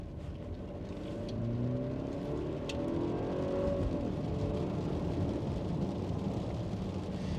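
A 2022 Mercedes GLE 350 engine growls and hums steadily, rising slightly in intensity under full throttle, heard from inside the SUV with a low, rumbling drone throughout.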